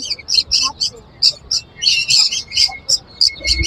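Conure parrots, including a King's Bellied conure, give repeated sharp, bright chirps and squawks in quick bursts at a bird market in Kolkata, close and loud, with faint background bustle.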